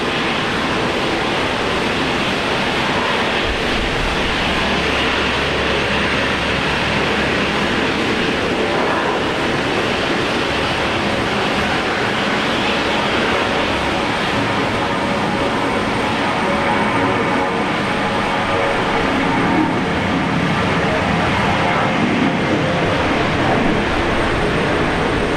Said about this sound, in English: we've got Qantas rolling now off to Sydney